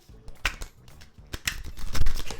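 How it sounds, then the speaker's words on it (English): Large oracle cards being shuffled by hand, quick papery riffles and slaps in uneven bursts, close up and fairly soft, with no talking. "They're big cards, it's hard to shuffle."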